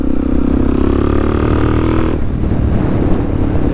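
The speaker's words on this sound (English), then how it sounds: "I'm gonna let it warm up a bit before I actually rip on it" A motorcycle engine idles while warming up, a loud, close, steady rumble that drops to a rougher, quieter idle partway through.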